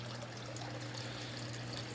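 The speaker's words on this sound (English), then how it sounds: "it's just dripping down and running down the front." Water steadily dripping and trickling out of a leaking waterfall tank onto the floor, a continuous close wash of splashing and running water with no pauses and no talking.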